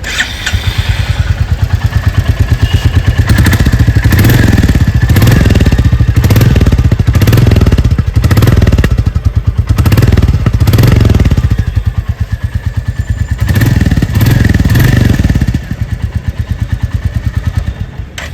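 A 2026 Royal Enfield Bullet 350 Standard motorcycle exhaust thumps loudly and steadily at idle with repeated throttle blips, a deep, close, continuous engine rumble with no talking.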